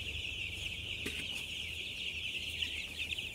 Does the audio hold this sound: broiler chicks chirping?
yes